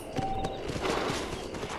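Horse hooves clop through Red Dead Redemption, a brisk, fairly close series of hoof strikes, with a brief high whinny-like tone early on.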